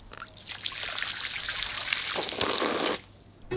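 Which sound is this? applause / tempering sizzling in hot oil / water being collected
water being collected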